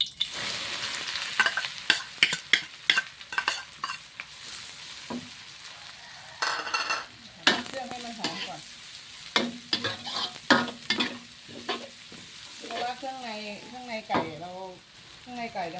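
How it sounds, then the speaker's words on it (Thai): Chicken giblets stir-fried with dried chillies in a pan over not-too-high heat, steady sizzling broken by repeated scraping strokes of a spatula, while someone talks intermittently. "วันนี้ก็ต้องผัดผัดเครื่องก่อน"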